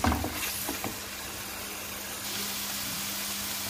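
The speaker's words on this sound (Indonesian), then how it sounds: "Ini kita tumis sampai benar-benar matang" Rendang spice paste sautéing in a pan, a steady loud hiss and sizzle with a few clinks at the start.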